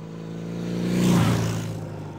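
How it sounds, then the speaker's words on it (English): A motorcycle approaching and passing by, its engine note rising to a loud peak mid-way then fading off with a slight pitch drop, heard alone. "A motorcycle."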